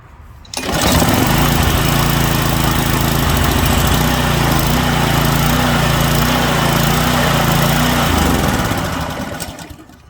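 A Delta pressure washer engine, freshly fitted with a new carburetor after five years in storage, roars into life and runs loudly and steadily for several seconds at close range before cutting off.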